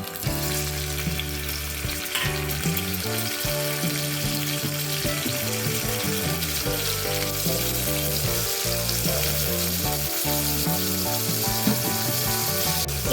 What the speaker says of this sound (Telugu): ఒక 2 స్పూన్స్ అంత ఆయిల్ వేసేసుకొని ఇప్పుడు దీంట్లో ఇలా కట్ చేసుకొని పెట్టుకున్న ఒక 2 టమాటోస్ వేస్తున్నాను